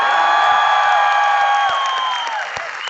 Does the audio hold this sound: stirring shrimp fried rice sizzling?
no